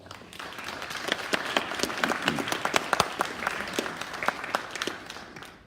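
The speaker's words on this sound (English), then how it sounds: "maybe just a quick round of applause at the start for everyone" An event audience gives a round of applause, a steady wash of many hands clapping at moderate distance for several seconds, swelling slightly in the middle before thinning out.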